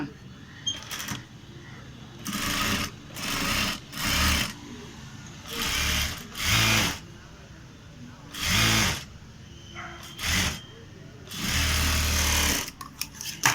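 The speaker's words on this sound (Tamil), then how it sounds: "இந்த கட் தைக்க போகிறோம் பாருங்கள்" Sewing machine stitching a cut on a blouse in repeated short bursts, about nine loud, close runs of whirring that stop and start with quiet pauses between them.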